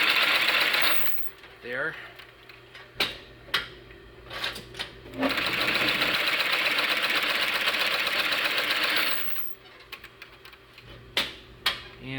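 A sewing machine stitches a leather journal cover at about 800 stitches per minute in fast, steady, close runs, broken by pauses with clicks and handling sounds, and a person speaks briefly.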